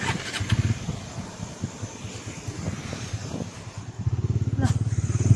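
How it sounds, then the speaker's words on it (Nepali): A motorcycle engine starts and runs on a busy road out of Butwal, Nepal, with traffic nearby. A steady low rumble swells into louder revving near the end while a voice talks over it. "उहाँले चाहिँ बाइक स्टार्ट गरिदिनुहुन्छ"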